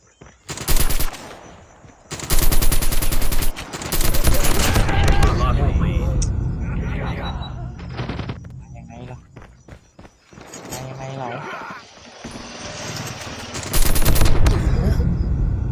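Video game gunfire comes in loud automatic bursts and rapid volleys, separated by pauses with footstep-like clatter, while a voice talks between shots.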